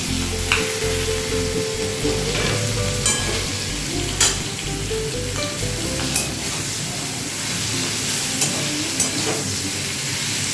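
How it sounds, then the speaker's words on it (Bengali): Diced potato and pumpkin fry loudly in hot oil in a pan for a Bengali hilsa-head ghonto, a dense close sizzle with periodic sharp stirring clacks roughly every second or two, with no talking. "এবার এতে দিয়ে দিচ্ছি কেটে রাখা আলু কুমড়ো দুটোই।"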